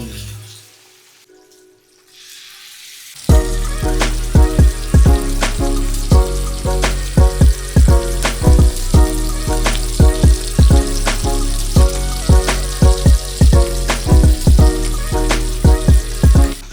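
Bala fish fries loudly in a pan, a dense sizzle with repeated sharp crackles and pops that kicks in suddenly after a few quiet seconds and keeps going without talk.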